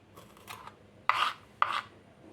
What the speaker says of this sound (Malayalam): ആദ്യം തന്നെ അതിൻ്റെ രണ്ടറ്റം ഒന്ന് കട്ട് ചെയ്ത് മാറ്റാം